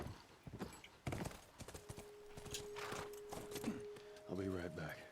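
Horse hooves clip-clopping in The Last of Us as the horse is ridden, with steady hoofbeats under a person talking, a sustained tone, and a short neigh near the end.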